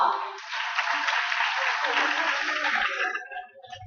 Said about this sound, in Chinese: 掌声一下好不好？